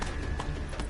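A horse gallops in The Witcher 3 video game, its hooves clopping in a quick, steady rhythm. The sound is loud and close over a constant game background, and lasts under a second.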